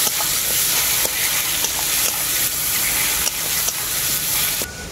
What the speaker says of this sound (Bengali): এরপর আমি মশলাটাকে খুব ভালো করে কষিয়ে নেব।